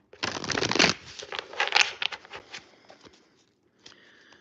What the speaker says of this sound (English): I'm just going to pull a couple of cards